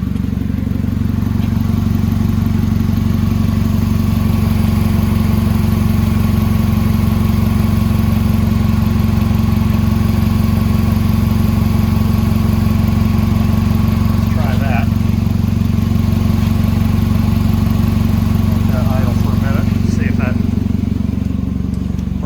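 A loud, steady car engine idles with its air conditioning running on propane refrigerant, a deep continuous drone throughout, with faint clatter and a few brief sounds rising above it.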